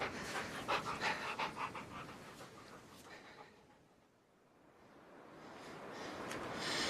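An old dog with an injured leg pants steadily outdoors in a radio drama scene, rapid breathy huffs fairly close, easing briefly midway then resuming.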